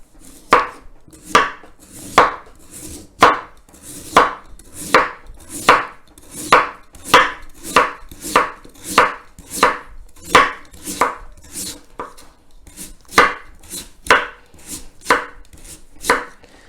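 A knife chops vegetables for traditional kimchi on a cutting board in steady, close, crisp strokes, roughly one or two per second with short pauses, with no voices over it.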